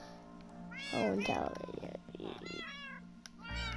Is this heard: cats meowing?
yes